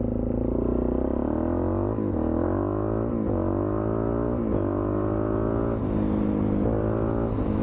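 A Suzuki DR-Z400 supermoto engine with a K&N air filter revs steadily with rising and falling pitch sweeps, loud and close, with a rushing airy intake sound throughout.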